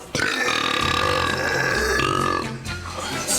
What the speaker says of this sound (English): he holds the world record for the loudest burp